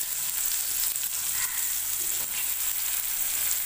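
Fresh fish fries in a hot pan, a loud dense crackling sizzle that holds steady and close for the whole stretch, with no talking over it.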